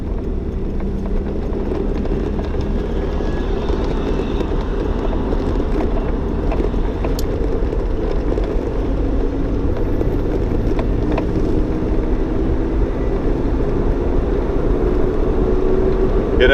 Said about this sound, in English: It has excellent power on the highway, as you would expect from a car with 473 cubic inches.